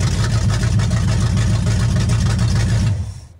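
A 1970 Chevy Nova's engine runs close by with a loud, rumbling, lopey idle pulsing rhythmically, then cuts off and fades out near the end.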